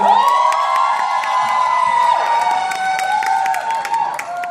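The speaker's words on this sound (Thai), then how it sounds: "ขอเชียร์สิเอกอีกสักครั้งด้วยนะครับ" A crowd of former students and children at a school event cheers loudly for Sitthi-Ek, whoops and shouts rising over sustained musical tones, with scattered clapping mixed in.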